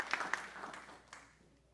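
A brief spatter of clapping from the audience at a Martin County school board meeting, a few sharp claps that quickly thin out and fade over under two seconds.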